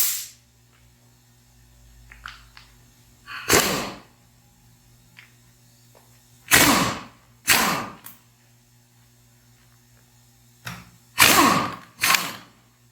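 A hand ratchet loosens rusty valve cover bolts on a Mini Cooper engine, making a few sharp, separate bursts of clicking with quiet gaps between them. Close by, and no one speaks.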